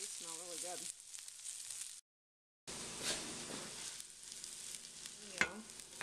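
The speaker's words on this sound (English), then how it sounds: "Check on our sauteing onions." Onions sauté in a hot, heavy skillet with a steady close sizzle that cuts out for a moment, then returns. A brief voice sounds near the start.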